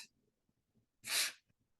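One sharp, breathy sneeze bursts out between soft breaths and small mouth noises, close and fairly loud against an otherwise quiet background.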